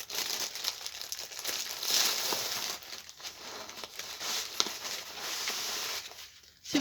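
Pink crepe paper crumpled and handled by hand, a close, continuous crinkling with irregular rustles and small crackles and no talk.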